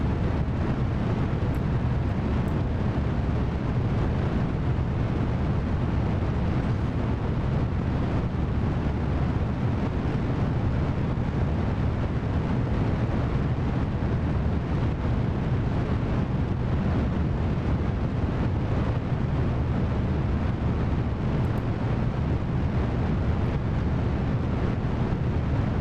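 Rockets lifting off in Kerbal Space Program give a steady, dense roar of engine thrust, loud and unbroken for the whole stretch, with no voices over it.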